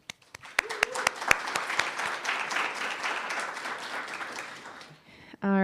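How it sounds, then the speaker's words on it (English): Applause for the staff at the Minnesota Poetry Out Loud finals at the Loft: a few sharp early claps build into sustained audience clapping for about five seconds, then die away as a voice begins speaking. "I really just want to give a little shout out and round of applause to all those people"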